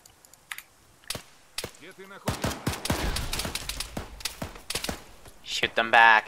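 Gunfire in the military shooter Arma 3, starting as scattered distant pops and building into dense, rapid bursts of automatic fire, with someone talking over the shooting.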